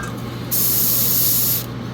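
An airbrush sprays paint onto a Gundam model in one loud hissing burst of about a second, starting and stopping sharply over a low steady compressor hum.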